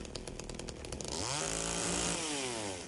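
A chainsaw in the video game Silent Hill 2 revs up from a rough idle into a loud, rising, buzzing whine that holds for about a second before easing back slightly.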